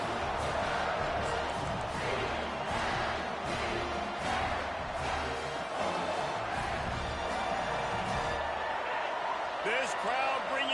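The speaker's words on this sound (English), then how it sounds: "This crowd bringing serious noise on this huge, huge 4th down play." Stadium crowd at a college football game roars loudly and continuously through a tense fourth-down play, a dense sustained wall of cheering and noise with a faint commentator-like voice underneath.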